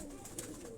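A soft, brief coo from a pet pigeon kept at a home, faint and distant over a hissy background.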